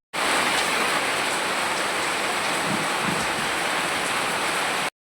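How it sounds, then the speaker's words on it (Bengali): Steady rain pours outside in Harirampur, Dakshin Dinajpur, a dense continuous hiss that holds at an even, fairly loud level throughout, with no voices over it. "বাইরে বৃষ্টি পড়ছে এখন"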